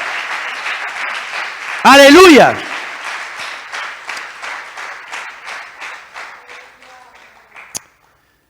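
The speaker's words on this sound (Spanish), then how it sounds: "Fuerte el aplauso al Señor." A church congregation claps at a service, its rhythmic applause pulsing in steady beats beneath a loud shouted voice near the start, then tapering off before a final sharp tap and silence.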